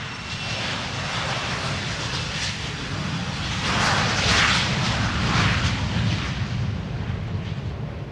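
Aircraft engines at an airport are started for pushback, giving a loud, steady, close roar that swells slightly midway and carries on without pause.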